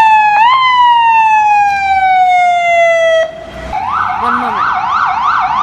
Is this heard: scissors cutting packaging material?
no